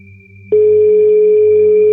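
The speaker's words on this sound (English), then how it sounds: "She tried to call Lily on her smartphone, but there was no answer." A smartphone call tone sounds after a brief near-silent pause, then holds as a loud, steady electronic tone with no pickup or voice, under a faint low background hum.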